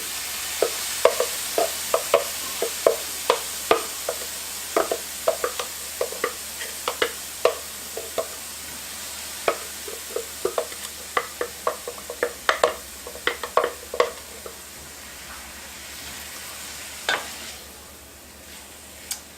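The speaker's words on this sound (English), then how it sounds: "Okay, add the celery. Move everything out of there. And the onion." Celery and onion sauté in a pan while a utensil stirs them, giving irregular scraping clicks over a steady soft sizzle that quiets near the end.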